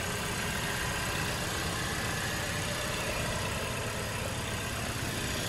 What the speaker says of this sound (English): Four-cylinder twin-turbo engine, looking good in here with a nice cover.